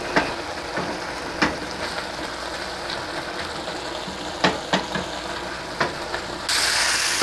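Ridge gourd with small shrimp, green chilli, onion, turmeric and salt fries in a pan as the water cooks off. A steady sizzling hiss is broken by a few scrape or tap sounds, and the frying grows louder near the end.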